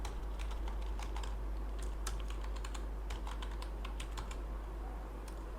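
Rapid keystrokes clatter on a computer keyboard as a message is typed into a contact form, irregular quick clicks close up over a steady low hum, with no talking.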